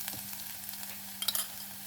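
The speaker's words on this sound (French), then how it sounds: "Et maintenant, on va sauter la viande." Beef sautéing in a frying pan with garlic gives a steady, close hiss of sizzling fat with a few sharper crackles and pops, and no voices.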